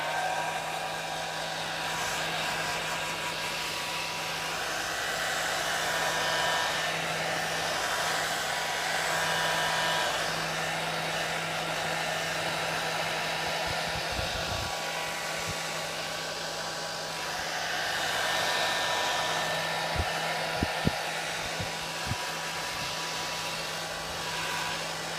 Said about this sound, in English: Quick blast with the hairdryer.